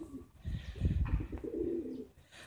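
Soft, low, throaty cooing from pigeons close by, a rolling murmur with a few faint chirps mixed in.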